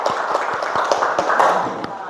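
A classroom of students gives scattered, uneven clapping during an Islamic studies lesson on marriage, a loose patter of hand claps blending with background chatter and voices.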